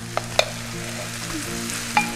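Pearl barley groats and walnuts fry and sizzle in a pan, a steady crackling hiss broken by a few sharp scrapes of stirring, with a low hum beneath and no talking.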